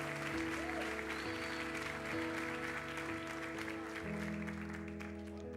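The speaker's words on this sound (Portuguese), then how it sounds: "Eu quero uma salva de palmas para todos os cooperadores que completaram o curso aqui." A church congregation applauds course graduates, a continuous wash of clapping running throughout under sustained musical tones from a keyboard or organ.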